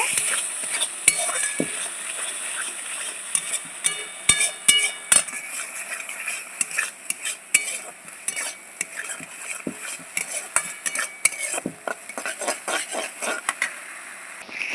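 Turmeric, salt and dry chili powder get stirred into an eggplant dish in a frying pan, with frequent sharp spoon scrapes and clinks over a soft sizzle, close and lively throughout.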